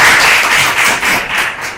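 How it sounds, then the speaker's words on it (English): A big round of audience applause for Shelby during a stage session, heard as steady, close, dense clapping that carries on throughout the short stretch. "Let's give a big round of applause for Shelby."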